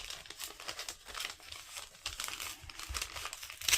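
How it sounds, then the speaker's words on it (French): A paper envelope being torn open by hand, with crinkling and rustling paper handled close up in a quiet room, in several uneven bursts. "je vous défais en même temps l'enveloppe"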